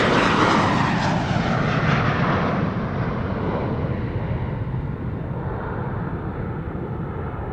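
A KLM Embraer 190 jet roars on its takeoff run at Amsterdam Schiphol on a sunny day, a loud, steady broadband engine rush that slowly thins and fades as the aircraft climbs away.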